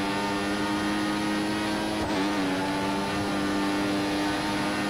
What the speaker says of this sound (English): And once again, Massa taking advantage of his powerful engine here on the straight